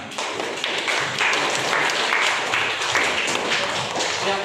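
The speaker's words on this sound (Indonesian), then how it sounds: "tepuk tangan" Classroom applause after a student group's presentation during a school lesson, a dense steady clatter of many hands clapping close by for the whole stretch.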